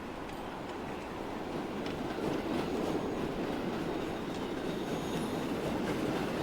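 A train arrives with a steady low rumble and rolling clatter that swells slightly and then holds at a constant level.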